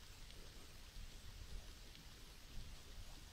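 Heavy rain falls steadily in the video game Kaii Shoukougun R, a faint, continuous wash of drops with no talking.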